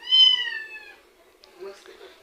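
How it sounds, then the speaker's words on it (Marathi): A cat sitting in a tub gives one clear, drawn-out meow, followed by fainter shorter sounds; it is close and alone. "बघा टपमध्ये बसलेल्या मांजराला इतकी मस्ती आली"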